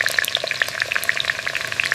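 Mustard seeds and urad dal tempering in hot coconut oil in a small tadka ladle, a close, steady crackling sizzle with dense rapid pops and spits throughout, no voices.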